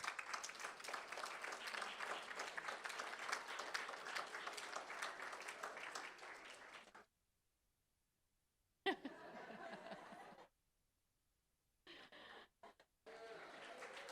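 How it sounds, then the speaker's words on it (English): Audience applause at a school board meeting, dense clapping from a crowd lasting several seconds before cutting out, then short fragments of clapping and gaps of silence. "Let's give them a huge round of applause"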